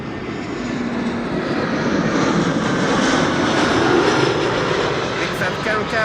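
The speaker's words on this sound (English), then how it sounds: "Lufthansa flight 2302, arriving from Munich, A319." A Lufthansa Airbus A319 arriving from Munich at Amsterdam Schiphol: a loud, steady jet engine roar that builds gradually and holds, with a voice speaking over it.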